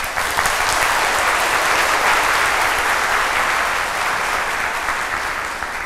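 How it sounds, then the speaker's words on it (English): A large audience applauds after a speech by a dignitary at a lecture event: loud, dense, sustained clapping that holds an even wash for about six seconds and eases slightly at the end. "Can we all give him a round of applause?"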